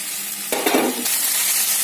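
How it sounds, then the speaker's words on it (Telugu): Curry leaves and gongura leaves fry in a hot pan, giving a loud, steady sizzle that swells sharply for a moment as something is stirred or added, then settles back into continuous crackling with no voices. "ఇవన్నీ బాగా వేగనిచ్చేయాలి దూరగా."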